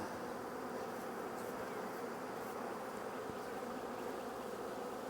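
A dense, steady swarm of bees hums continuously up close, an even drone with no pauses and no voices.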